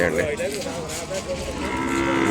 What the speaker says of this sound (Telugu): ఇదిగోండి దూడ చూసారా నిండు రంగు మంచి ఒరిజినల్ రంగు